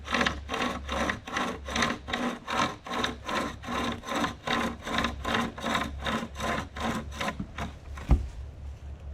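Hand saw rhythmically cutting through wood at a camp, about eighteen even push-pull strokes close by, ending with a sharp knock near the end.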